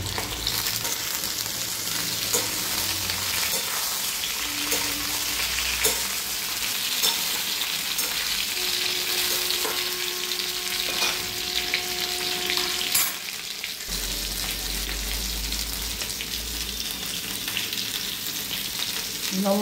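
Vegetables frying lightly in a pan for a vegetarian drumstick (sajne data) dish, a constant loud sizzle with occasional stirring scrapes and clinks, a short lull near the end before the sizzle resumes.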